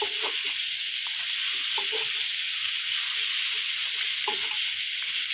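An egg fries in a hot pan with yellow soba noodles and marinated pork, giving a loud, constant sizzle with faint scraping stirs underneath and no voices.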